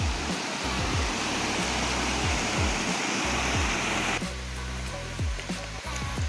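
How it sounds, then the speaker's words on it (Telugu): Waterfall deep in a dense forest, a steady broad rushing roar that stays constant and fairly close, with faint low thumps underneath. "సౌండ్ వస్తుంది జలపాతం"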